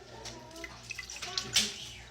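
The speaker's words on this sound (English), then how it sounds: "And then you get your skillet heated. Put water in it." Water poured into a heated skillet while cooking salsa gives a faint, short splashing and hissing sizzle, a few soft bursts rising to a brief louder hiss at the end.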